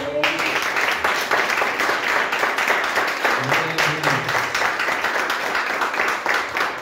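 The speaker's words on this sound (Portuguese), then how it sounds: "Dê a Jesus uma salva de palmas." Steady clapping from a church congregation during a Saturday worship service fills the room, dense and continuous, with a low hum of voices underneath.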